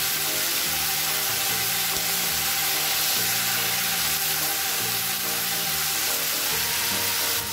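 Tomatoes hit a pan of lightly sautéed onions for paneer butter masala, giving a loud, dense, continuous sizzle with occasional stirring.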